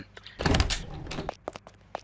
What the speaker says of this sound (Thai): เปิดประตูฮะ